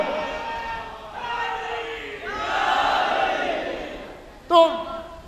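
A crowd at a religious gathering raises a slogan, with several waves of voices rising and falling, building to a louder swell before a sharp, short shout near the end.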